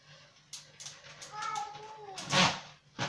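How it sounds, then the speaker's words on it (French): A cat lets out a drawn-out, wavering yowl, rising and falling over a couple of seconds, against faint background voices and a final sharp clatter. "vous entendez mon chat hurler"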